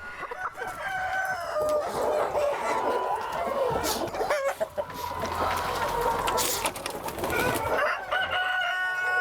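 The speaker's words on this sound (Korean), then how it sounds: "창고 한쪽엔 농부가 따로 돌보고 있는 닭이 있다" Chickens kept inside a farm warehouse cluck and crow, with busy overlapping calls and a rooster's crow rising over the flock's chatter at close range.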